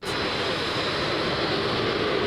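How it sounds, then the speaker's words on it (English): A South African jumbo jet passes roughly 150 feet over a village at Castle Donington, a loud, steady, close engine roar that fills the whole stretch with no voices. "We had a South African jumbo jet that scared the life out of all the locals in Castle Donington."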